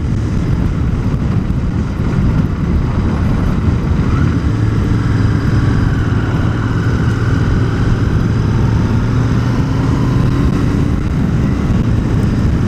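A 2021 Royal Enfield Continental GT650 motorcycle rides steadily, its engine a continuous loud drone with rising and falling pitch as it works up and down through the gears, wind rush layered over it.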